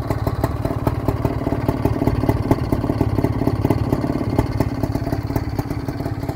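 A Bultaco Alpina 250 motorcycle engine runs close by on a November day. It gives a steady, fast, rattly single-cylinder putter with an even rhythm throughout and no voices.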